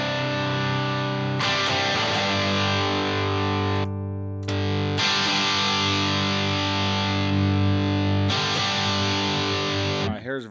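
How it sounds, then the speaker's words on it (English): Black Op distortion guitar effect on a Headrush or Helix modeler, thick saturated guitar chords held loud and sustained, broken by a short gap and several fresh strums. "Let's compare the compulsive drive to the Black Op."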